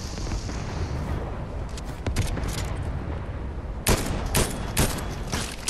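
Rapid bursts of automatic gunfire from a Fortnite duos match crackle over steady game noise, with sharper volleys clustering near the end.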